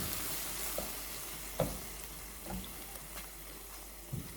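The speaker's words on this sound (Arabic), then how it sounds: "وراح اقلبهم كلهم مع بعض بشكل جيد" Veal lung sizzles in a pan with lemon juice and ground hot pepper as it is stirred, a steady frying hiss broken by a few soft scraping strokes, close up.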